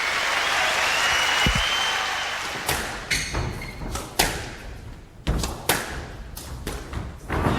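Crowd applause at a British Open men's squash final, Jansher Khan against Peter Nicol in 1997, a steady wash of clapping broken by sharp thuds and slams from the court, loud and close.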